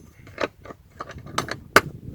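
Two latches on a plastic laundry bucket lid snap and slide shut outdoors in a field, a few close, sharp plastic clicks and rattles with a brief pause between them, the last one loudest.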